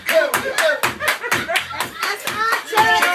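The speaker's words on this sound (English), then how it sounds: "Everybody clap your hands." Group of people, likely kids, clapping their hands in a steady beat during a dance, about eight sharp claps over a few seconds, loud and close over background music and voices.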